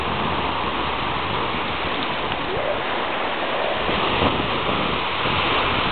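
Ocean waves at a beach make a loud, continuous roar of surf close to the microphone, with wind buffeting and no voices.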